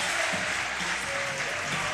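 A basketball crowd in a gym cheers and applauds steadily during a timeout, a dense, continuous roar of clapping and voices filling the space.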